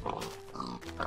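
A pig in Minecraft gives a short run of nasal grunts and oinks, close and fairly quiet, with no talk over it.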